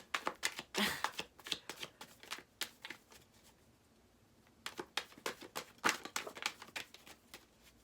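Oracle cards being shuffled by hand in quick, close bursts of crisp riffling and flicking, pausing briefly midway before a second run of rapid card slaps.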